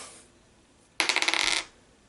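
Dice tumbling across a board-game table: a single burst of rapid clattering hits, about a dozen quick clicks over half a second, close and clear in an otherwise quiet room.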